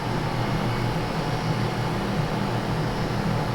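Hyperice Hypervolt massage gun motor running on its lightest setting, a steady, loud, continuous whirring hum with a low buzzing drone, unchanging throughout and with no talk.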